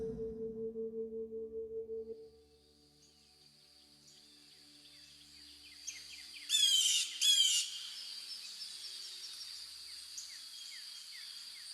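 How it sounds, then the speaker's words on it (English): Recorded birdsong in a guided sound bath meditation: a low resonant tone fades out, then thin high chirps and a few brighter squawk bursts sound quietly against a near-silent background. "the sound of the bird's song returns"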